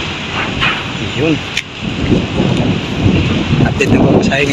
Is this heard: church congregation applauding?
no